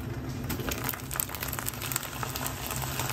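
Cooked rice in a pot with the water boiled away, crackling and sizzling as if frying, a steady dense crackle of small pops held close and moderately loud throughout, with no talking.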